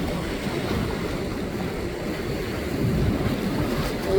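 Ocean waves break and wash against rocks at the shore, a steady near roar of surf mixed with wind, swelling slightly toward the end, with no talking.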